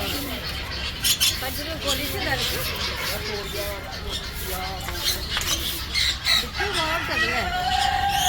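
A hen squawks several times amid a noisy bird market in Dubai, sharp cries rising over constant background chatter and clatter.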